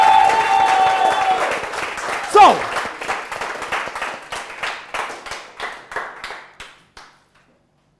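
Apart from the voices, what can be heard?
audience applause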